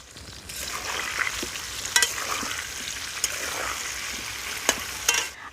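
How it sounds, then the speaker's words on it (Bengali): Potatoes with salt and turmeric frying in hot oil give a steady close sizzle, with a few sharp scraping stirs of a utensil against the pan. "আমি তেলের মধ্যে আলুগুলো ভেজে নেব"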